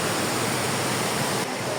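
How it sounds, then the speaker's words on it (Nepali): A waterfall roars, loud and close: a dense, unbroken rush of falling water that fills the whole clip without pause. No voices are heard. "जस ठिकै रहेछ यो झरना पनि"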